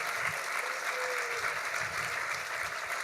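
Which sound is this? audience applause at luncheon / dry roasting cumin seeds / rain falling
audience applause at luncheon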